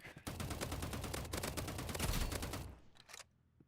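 Dense burst of rapid gunfire in the Marvel Rivals shooter game, a sustained fusillade of crackling shots for about two and a half seconds before it breaks off into a few faint scattered pops.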